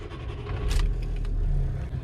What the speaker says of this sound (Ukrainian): Хочу завести машину